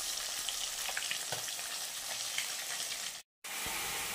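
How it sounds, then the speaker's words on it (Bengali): Spices sizzle steadily in hot oil while being sautéed for a katla fish curry, a close, continuous frying hiss with a brief dropout near the end and no talking. "এদিকে হচ্ছে মশলা কষাচ্ছি"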